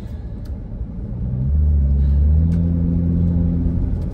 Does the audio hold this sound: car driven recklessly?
yes